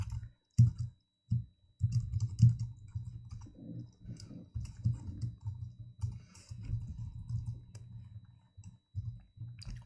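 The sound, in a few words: typing on a computer keyboard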